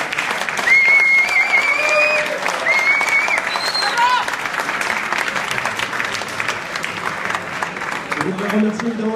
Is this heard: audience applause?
yes